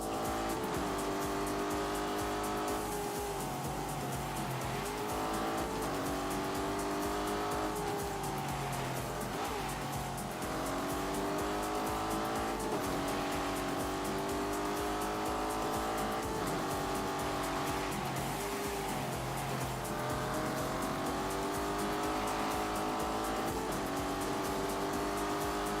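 A Lamborghini Urus engine runs with the drive system in snow mode, a steady loud motor drone with shifting revs held throughout, tyres faintly squealing at times, no voices.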